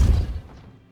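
A Depulso spell hits in the video game Hogwarts Legacy: one short, heavy thud that booms and quickly fades away within a second.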